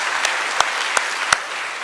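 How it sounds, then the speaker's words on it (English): A courtroom audience at a court community event at River Rouge High School applauds the litigants in a brief, steady round of clapping, with a few louder individual claps standing out. "if we can give them a round of applause."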